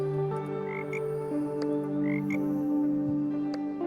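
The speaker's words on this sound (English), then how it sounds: "And another frog." A frog croaks in the tile-placing city-building game Pan'orama, a couple of short chirpy calls riding over a steady, sustained musical background.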